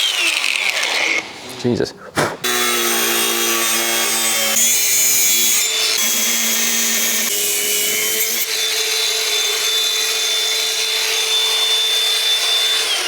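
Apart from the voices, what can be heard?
angle grinder cutting rusty steel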